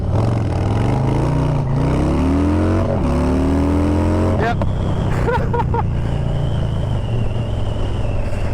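A 2025 Harley-Davidson Street Bob accelerates hard with wheel spin through first gear, its engine roaring loudly and rising in pitch, then dropping sharply as it shifts before climbing again; a rider briefly speaks.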